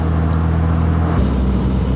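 A 1972 MG Midget with a 1275cc engine roars loudly while driving in third gear at about 4,000 RPM. The drone holds steady and close, then its tone shifts abruptly partway through.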